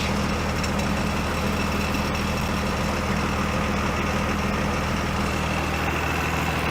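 An old Cummins diesel idles in a Mack A40 truck cab, a steady heavy rumble with rattling vibration through the steel dash, loud and close, continuous throughout with no talking.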